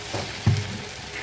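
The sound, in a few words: stirring chicken Hakka noodles with ketchup in a frying pan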